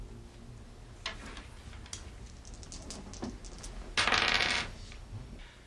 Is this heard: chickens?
no